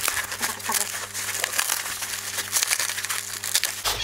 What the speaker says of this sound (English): So I've just got a little bit of packaging material here.